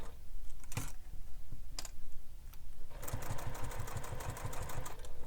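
Sewing machine back stitching, a few short isolated clicks of the needle followed by a fast continuous rattling run of stitches, close and steady, no voices.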